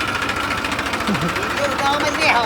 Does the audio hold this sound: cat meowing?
no